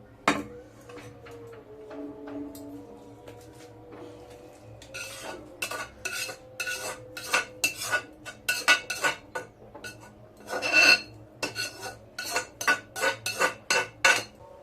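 Cooked eggplant and tomato are ground with tamarind and salt in a stone mortar. After a quiet start, rhythmic bursts of scraping and knocking of stone on stone repeat close by.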